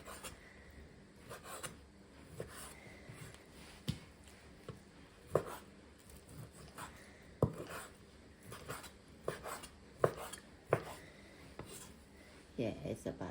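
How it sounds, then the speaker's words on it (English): A knife cuts raw beef into cubes for beef lok lak on a cutting board, giving soft repeated taps and scraping strokes at an uneven pace, close and fairly quiet. "So this part of meat I cut to be cube"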